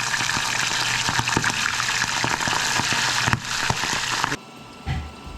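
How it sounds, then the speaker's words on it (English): Squid fry in a hot pan with loud, steady sizzling and crackling bubbles that continue for several seconds, then abruptly quieten near the end. "put the squid inside. So squid is very easy to fry."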